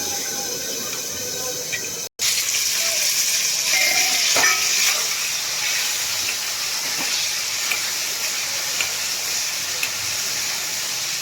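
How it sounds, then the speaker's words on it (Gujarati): Mustard seeds and gunda berries frying in hot oil in a home kitchen for gunda sambharo, a steady crackling sizzle held close and loud, with a brief dropout early on and faint stirring. "રાઈ એકદમ સરસ ફૂટી જાય એટલે આપણે એમાં ગુંદા એડ કરી દેશું।"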